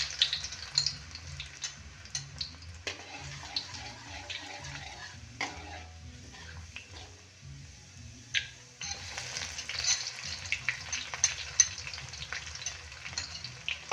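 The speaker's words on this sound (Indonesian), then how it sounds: "Setelah minyak panas, tumis bawang putih dan bawang merah" Garlic and shallots sauté in hot oil, a steady close sizzle broken by intermittent scraping stirs of a utensil against the pan, with a brief quieter lull in the middle before the frying hiss swells again.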